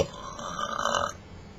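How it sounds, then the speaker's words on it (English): A single loud, close belch rumbles for about a second and then cuts off, leaving quiet room tone with no talk. "That Belch was kind of lame."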